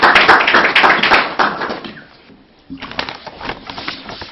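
An audience claps after a lecture, a dense burst of applause that thins out and fades, then a few scattered claps and stirring sounds return at moderate loudness.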